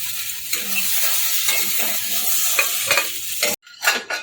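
Okra (bhindi) sizzles loudly in a pan while being stirred, a dense continuous frying hiss broken by scraping strokes before it cuts out briefly and resumes more quietly.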